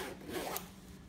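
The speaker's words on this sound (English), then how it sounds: "You can zip it from either side." A zipper slides along a bag in one steady pull, a close, raspy scraping sound, fairly quiet with no talking.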